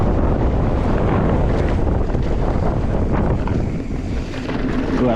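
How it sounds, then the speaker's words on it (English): Strong wind buffets the microphone during a mountain bike ride on a Rocky Mountain Instinct, a constant, roaring rush, loud and unbroken, drowning out any finer detail. "It's really windy."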